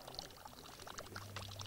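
Water pours and trickles from an ancient Greek water clock in a soft, continuous splashing flow with small bright droplet sounds, quiet and unaccompanied by speech.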